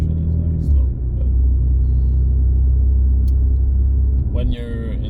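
Infiniti Q50 driving on a cold, sunny day, with a loud, steady engine and road rumble throughout, heard from inside the car.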